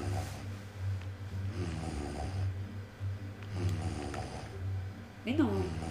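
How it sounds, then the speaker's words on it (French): Repeated rasping snore-like breaths in the video game Fable Anniversary rise and fall in slow cycles over a steady low hum, with a sharper snort near the end. "c'est ronflement, c'est ignoble"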